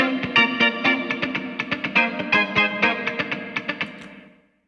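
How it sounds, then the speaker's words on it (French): Distorted electric guitar, played through an amp simulator in Ableton Live, strums in a fast, choppy rhythm, drenched in heavy Hybrid Reverb, ending in a washy tail that fades out. "là on va aller chercher la reverb dans Time and Space"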